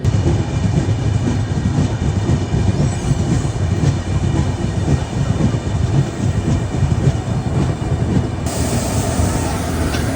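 Triveni Express rolling past on the rails, a loud continuous rumble of wagons with faint clickety-clack of wheels, steady throughout.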